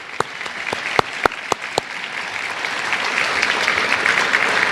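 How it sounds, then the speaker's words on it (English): At a school district academic awards ceremony, a few sharp isolated claps ring out first, then a large audience's applause swells into a steady, dense roar honoring paraprofessionals of the year. "Let's give one more applause to all of our Tomball ISD campus and district paraprofessionals of the year."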